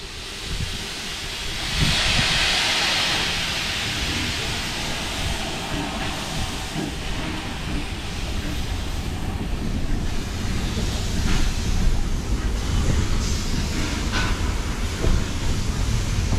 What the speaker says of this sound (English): I've recorded a dashcam view of Bertha's journey